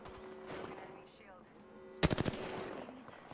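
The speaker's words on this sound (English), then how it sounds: "They're shooting at a team over here." Gunfire in an Apex Legends ranked match, a quick burst of automatic shots at moderate distance cutting in halfway through over a low steady game background.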